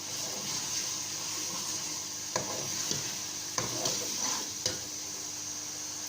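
Ground yogurt poured into a pan of frying masala for curry pakora, with a steady sizzle and several sharp scrapes of a spoon stirring against the pan, close and without talk.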